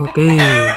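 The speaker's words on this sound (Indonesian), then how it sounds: "maaf, itu suara ayam ya" A single drawn-out chicken cluck sounds nearby, with a brief spoken word just before it.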